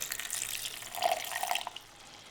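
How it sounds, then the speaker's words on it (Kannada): Water splashes and trickles briefly into a pan while cooking a simple diet meal, a short close liquid pour that swells and then fades within about two seconds. "ಇದಕ್ಕೆ ಸ್ವಲ್ಪ ನೀರನ್ನ ಹಾಕ್ಕೋಬೇಕು."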